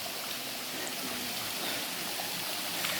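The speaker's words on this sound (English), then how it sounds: "The noise of the water is like quite soothing." A mountain stream runs along a moss- and lichen-lined pilgrimage trail to Sri Pada, giving a steady, close, broadband rush of flowing water with no talk over it.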